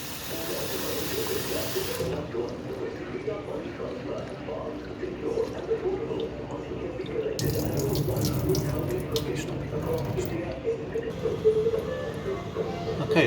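Rice being rinsed under a running kitchen tap, a continuous splashing gush of water with grains being swished, steady and close throughout, briefly fuller and louder partway through.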